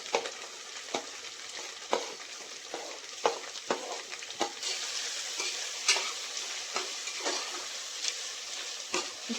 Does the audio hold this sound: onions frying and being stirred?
yes